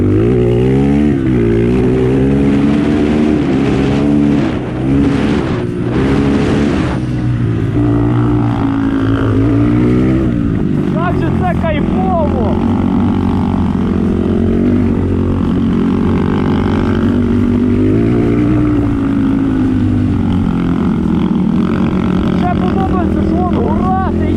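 A loud motorcycle engine roars close up throughout, its pitch rising and falling as it revs, with voices mixed in now and then.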